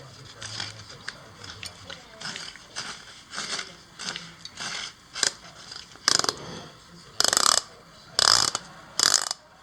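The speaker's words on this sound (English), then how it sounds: "we got a ratcheting system to let you know that you're tight enough" The ratcheting tweeter mount of a Kicker QSS-674 component speaker set being screwed tight, producing a steady series of crisp mechanical clicks that grow louder and sharper toward the end, with someone talking softly in the background.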